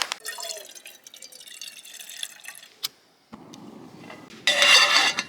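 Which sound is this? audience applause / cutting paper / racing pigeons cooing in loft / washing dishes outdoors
washing dishes outdoors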